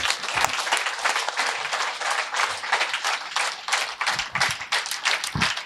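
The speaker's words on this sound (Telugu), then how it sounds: "అందరు కలిసి మనం గట్టిగా చప్పట్లు." An audience claps together loudly at a stage event, a dense, sustained round of applause lasting several seconds with no talking over it.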